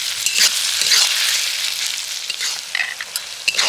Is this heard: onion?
yes